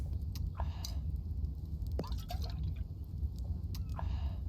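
Water fills a container in The Infected survival game, with a few short trickling and dripping bursts spaced over several seconds against a low steady ambient hum.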